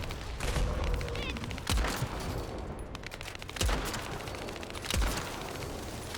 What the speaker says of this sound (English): I'm shooting at the shoulders